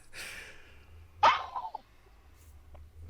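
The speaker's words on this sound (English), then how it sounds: "Sounded like you sneezed." A single sharp, close sneeze bursts out suddenly after soft breathing, then trails off into a brief exhale.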